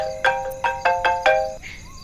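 A mobile phone rings with five short, bright electronic tone bursts in a steady rhythm, close and clear, then a short fading tone at the end.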